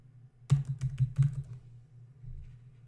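Someone types a name into a computer keyboard: a short, close burst of about a dozen quick keystrokes over a low steady hum, then quiet.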